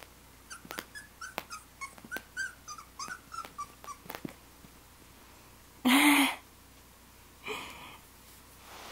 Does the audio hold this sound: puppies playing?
yes